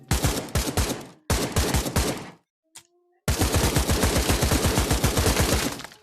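Automatic fire from a Russian gun at a shooting range in the VR game Pavlov: loud rapid bursts of gunshots with a brief pause, then one long sustained burst, close and unbroken by speech.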